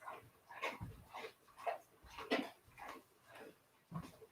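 A dog whimpers and gives short, soft barks and yips in uneven bursts, close but faint, heard without talk.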